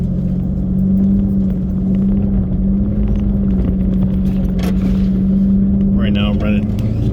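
Jeep engine held in first gear at raised revs on an off-road trail, a loud, steady low rumble throughout, with brief clatter near the end.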